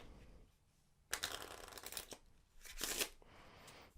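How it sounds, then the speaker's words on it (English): A deck of cards is riffle-shuffled twice, each a quick crisp burst of fluttering clicks separated by a short pause, close up. "we will shuffle up the deck"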